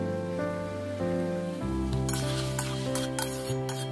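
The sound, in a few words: stirring and frying tomatoes with salt and turmeric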